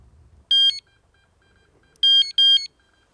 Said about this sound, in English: It's just a little bite detector.